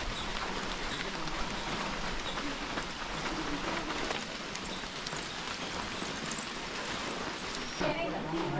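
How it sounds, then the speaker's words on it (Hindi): Steady rain falls during a trek up Brahmagiri mountain, a dense, continuous close patter and hiss on surfaces that holds at an even level throughout. "बारिश रुकने का नाम नहीं ले रही है"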